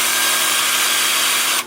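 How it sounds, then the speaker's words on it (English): A power drill whirs loudly and steadily against wood spinning on a lathe during wood turning, a harsh, continuous abrasive buzz that cuts off abruptly just before the end. "got my drill going the wrong way. Drill going forward, lathe going forward."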